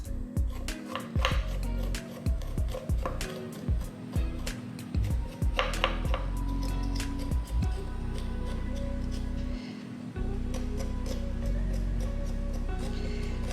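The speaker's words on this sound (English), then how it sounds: "I'm just gonna grab a spoon and I'm going to scrape off the skin" A spoon scrapes the skin off fresh ginger in a kitchen, making quiet scratchy strokes and small taps in short bursts, with a person talking throughout.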